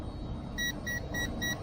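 An Eachine E520S GPS camera drone gives four short, evenly spaced electronic beeps, fairly faint over a low background rumble.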